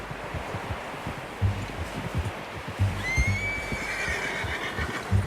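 A horse in the Red Dead Redemption 2 video game whinnies in a rising call midway through, over a steady clatter of hooves and rustling outdoor ambience.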